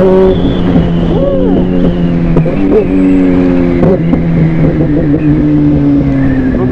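A 2020 Suzuki GSX-R 1000 R sport motorcycle engine, remapped to 212 hp, revs hard up close, pitch rising and falling through quick throttle blips, loud and continuous.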